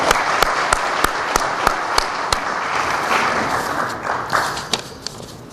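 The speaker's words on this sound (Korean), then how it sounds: "우리 박수." Audience applause at a coaches' seminar welcoming football coach Park Seong-hwa, a steady crowd clapping with sharp individual claps standing out, loud and sustained without speech.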